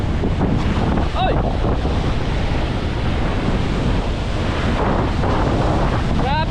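Strong wind buffets the microphone in a constant loud rush, mixed with surf, with a brief exclamation now and then.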